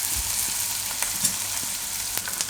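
Chopped onions with green chillies sizzle and fry in a pan for a Gujarati green-bean curry, a steady close crackle with a few faint clinks of a stirring spoon, no talking.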